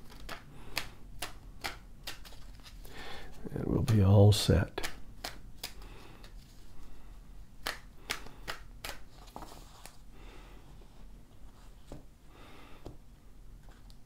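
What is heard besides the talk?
tarot cards being shuffled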